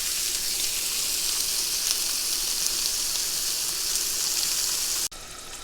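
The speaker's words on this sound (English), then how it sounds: "lightly brown the onions here with the 3 tablespoons of shortening" Onions browning in three tablespoons of shortening for pork chops supreme, a steady close sizzle and crackle running unbroken with no talk, cutting off abruptly near the end.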